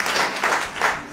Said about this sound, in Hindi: अब इनका नाम पर ताली बजा जोर से आऊंगा।